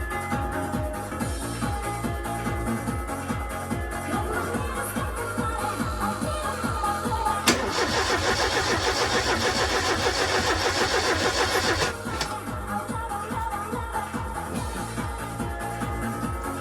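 A Ford Sierra Cosworth engine cranks over on the starter during a compression test, giving a steady, loud rhythmic chugging that runs the whole time. It grows denser and brighter in the middle stretch, then settles back into the same even cranking.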